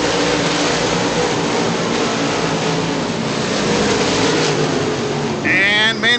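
Late model stock cars race in a tight pack at Virginia Motor Speedway, engines roaring steadily and loudly with a brief surge of revving near the end, while a commentator talks throughout.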